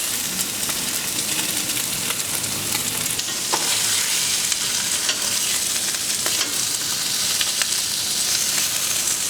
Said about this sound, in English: Just sear the ribeyes.